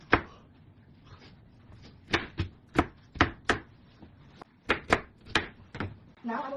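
A knife chops an onion on a cutting board for mirepoix, giving a string of sharp, close knocks at an uneven pace with short pauses between runs.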